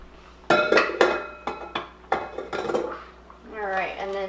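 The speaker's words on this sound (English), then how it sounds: "Scrape off my spatula" A spatula knocked and scraped against a mixing bowl several times in quick succession, sharp clinking taps about half a second apart, close and fairly loud, followed by a short stretch of talking at the end.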